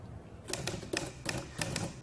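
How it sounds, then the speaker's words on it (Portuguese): An old mechanical typewriter is typed on in quick, irregular clacks, each key strike sharp and close, with a few harder strikes standing out. "É a arte de escrever numa dessas máquinas, uma espécie de antigo editor de texto."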